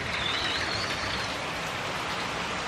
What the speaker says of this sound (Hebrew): מה זה הגשם הזה, שימו לב